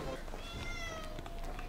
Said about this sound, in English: Did that cat meow at me?